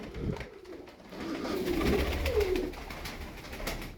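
Tumbler pigeons coo softly and continuously amid a dense, noisy background of fluttering and rustling, the low cooing rising and falling throughout.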